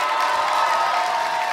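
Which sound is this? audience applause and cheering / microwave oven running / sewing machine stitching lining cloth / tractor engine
audience applause and cheering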